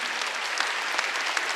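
Church congregation applauding during a Wednesday worship service, a steady dense wash of clapping hands with no voices over it.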